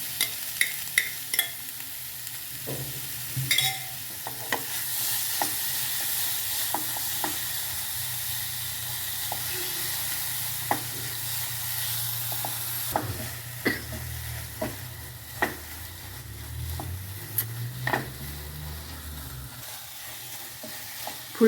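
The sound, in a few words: spinach and pea paste cooking on full flame, being stirred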